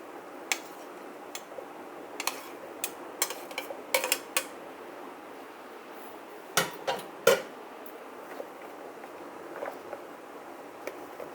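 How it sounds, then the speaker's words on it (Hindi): Russian salad of fruit, cream and pomegranate seeds being mixed in a bowl, sparse close clicks and taps of a spoon against the dish over a quiet background, without talk. "तो पहले हम अच्छी तरह इनको सब चीज़ों को मिक्स कर लें।"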